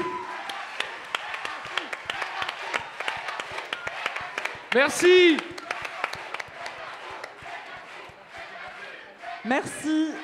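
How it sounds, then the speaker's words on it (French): An audience at an evening arts showcase applauds performers with steady, dense clapping that carries on throughout, while a presenter's voice speaks over it and short bursts of amplified music cut in. "On peut les applaudir encore une fois."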